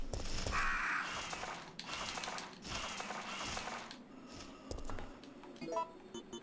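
Crows cawing in the PS1 survival horror game Resident Evil 3, harsh repeated caws over a dense, busy game soundscape with mechanical clicking, loud and close, with no talking.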